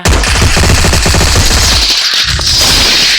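Rapid automatic gunfire in a mobile shooter video game, loud bursts of closely spaced shots rattling for about two seconds before giving way to a brief quieter tail.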